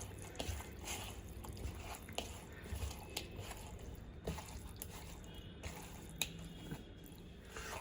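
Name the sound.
mixing spices into yogurt marinade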